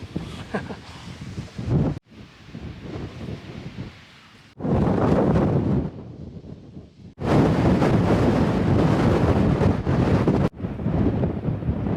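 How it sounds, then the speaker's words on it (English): Strong gusting wind on the hilltop at Stanage Edge in the Peak District roars and buffets against the microphone, surging loud and easing off in turns, with no other sounds standing out. "Very, very windy on the top there."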